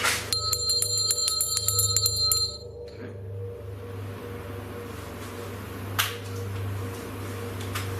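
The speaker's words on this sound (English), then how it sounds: "Let's just ring the bell and see if it reacts." A small bell rings rapidly in a fast repeated tinkling burst for about two seconds during a ghost hunt at Gotts Park Mansion, then stops, leaving quiet room hum and a brief knock.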